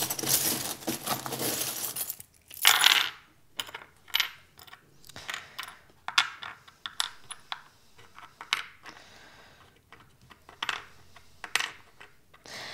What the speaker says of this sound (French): on va aller prendre maintenant les breloques.